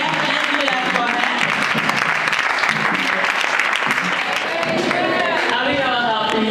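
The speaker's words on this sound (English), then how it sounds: "Let's give her a round of applause." Steady audience applause at a public event honouring an HIV ambassador in Ghana, dense clapping sustained throughout with crowd voices and cheers mixed in.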